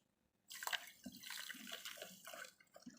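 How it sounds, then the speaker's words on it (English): Caustic soda granules poured gently into water for laundry bar soap, a soft continuous pattering and splashing that starts abruptly and trails off with a few drips. "I'll add gently into this water"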